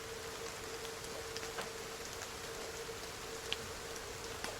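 Ambient rainfall, a soft, even hiss of steady rain with scattered faint drip ticks, low in level and continuous with no voices.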